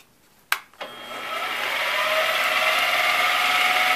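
A mill spinning aluminum balls on counter springs is switched on with a couple of sharp clicks, then spins up into a loud, steady, rising whir with a metallic ratcheting edge that holds at full speed.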